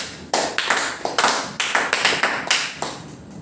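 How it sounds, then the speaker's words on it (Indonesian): A classroom of students claps for a classmate during a micro-teaching lesson, a short run of sharp, separate handclaps from a small group, close and uneven. "tepuk tangan untuk Bimayu"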